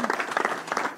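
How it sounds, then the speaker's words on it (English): Brief burst of applause from an audience at a Massachusetts state event with Governor Healey launching universal free school meals, dense clapping with voices mixed in, lasting about a second. "So we want to give her a round of applause."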